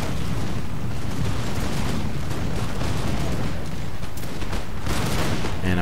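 Napoleonic battle in Napoleon: Total War, Russia against France, with French artillery booming and musket volleys crackling in a dense, continuous roar of overlapping shots, loud and unbroken throughout.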